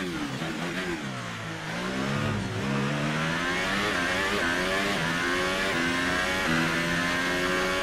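Formula 1 race car in the F1 2019 video game accelerating at full throttle around the Shanghai circuit, a loud, close engine climbing in pitch through rising upshifts with a sustained high whine.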